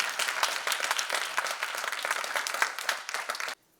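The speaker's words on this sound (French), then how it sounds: "Merci à eux, on peut les applaudir généreusement." An audience at the premiere of the short film Réciproque claps generously, a lively burst of many sharp hand claps at close range that holds strong and then cuts off abruptly near the end.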